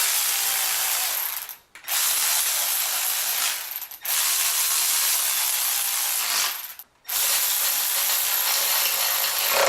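Bolts on a BMW M52 engine being run down with a ratcheting tool make long, loud, continuous buzzing spins, broken by three brief pauses, close up and with no talking.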